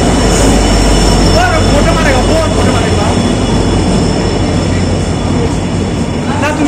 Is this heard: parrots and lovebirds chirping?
no